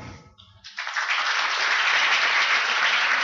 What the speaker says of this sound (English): can you please give a round of applause as they come to the stage